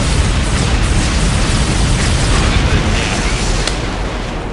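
Laser turrets fire in the space strategy game Imperium Galactica 2, a loud dense barrage of crackling blasts and booms that thins slightly toward the end.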